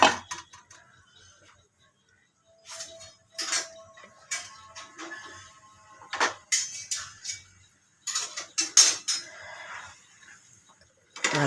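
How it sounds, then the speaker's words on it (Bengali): Turmeric-coated flour is stirred in a kadai, with a spoon scraping and clinking against the metal pan in short irregular bursts separated by quiet pauses. "নেড়ে নেড়ে শুকনো করে নেব।"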